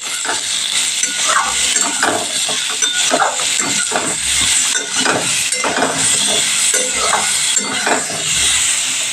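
Pointed gourd (potol) frying in oil with turmeric and salt, giving a loud, continuous sizzling hiss with repeated scraping and stirring bursts throughout.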